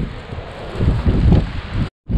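Low wind buffets the microphone in uneven rumbling gusts on a rainy hiking trail along Oregon's Highway 101, briefly cutting to silence near the end before resuming.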